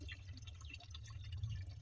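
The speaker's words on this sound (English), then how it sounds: "you can see where the water is passing through" Water trickles and drips steadily from a village spring that never runs dry. The flow is close and continuous over a low rumble, with no voices.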